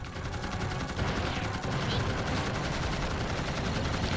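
Dense, continuous gunfire from the PS2 anime action game Blood Will Tell, a steady rapid barrage that fills the whole stretch at close range, with a voice occasionally mixed in.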